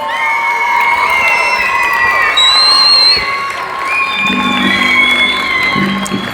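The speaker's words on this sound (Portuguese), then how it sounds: "aplaude ao Senhor aí com alegria" A church congregation cheers and shouts in praise, a loud, sustained wash of many voices with whoops rising over it and little clear clapping.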